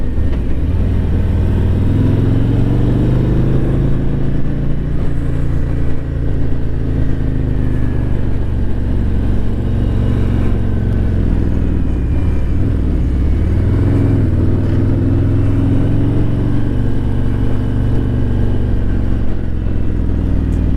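A Harley-Davidson motorcycle rides through curves on a quiet road, its engine a loud, close, continuous rumble that swells and eases as it moves between second and third gear with friction-zone clutch use.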